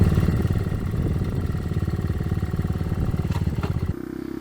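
A 1974 Honda CT70 minibike fitted with an 88cc big bore kit being ridden, its small single-cylinder engine chugging steadily and loud up close, with a brief drop to a softer idle-like note at the end.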